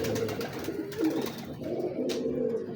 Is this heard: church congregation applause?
no